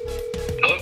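Phone placing a call gives a steady tone, then a short electronic beep near the end, close and fairly quiet, with no one speaking.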